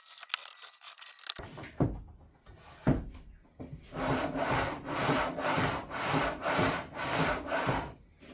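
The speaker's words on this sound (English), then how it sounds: "Now I'm cutting off a 1 inch stop for the tall fence jig" A 1 inch wooden stop being cut off for a tall fence jig, heard as a few sharp knocks followed by a run of rhythmic, rasping back-and-forth sawing strokes, close and fairly quiet.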